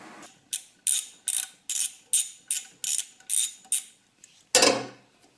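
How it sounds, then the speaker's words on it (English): A ratchet wrench loosens an alternator ground mounting bolt on a Nissan X-Trail or Teana with about ten evenly spaced, crisp clicking strokes close up, then a final longer metallic rattle as the bolt comes free. "Remove alternator ground mounting bolt."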